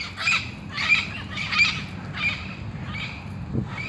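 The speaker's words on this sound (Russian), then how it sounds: "Попугаи, слышишь?" Parrots fly over Flamengo beach in Rio de Janeiro, squawking in a regular series of harsh calls about every two-thirds of a second over a low background rumble.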